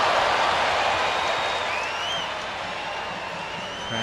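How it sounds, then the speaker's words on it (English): A stadium crowd at a women's international soccer friendly in Austin, USA against Nigeria, applauding and murmuring as a broad, steady wash of noise that eases slightly partway through. "Crowd in Austin appreciating"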